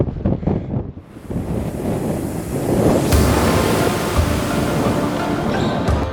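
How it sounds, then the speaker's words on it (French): Powerful gusting wind near a mountain summit at about 4,900 metres on a mountain-bike raid in the Lipez and Atacama highlands, a loud, continuous roar buffeting the microphone after a brief lull. No one speaks. "il y a un vent de malade et en plus on l'a souvent en pleine face"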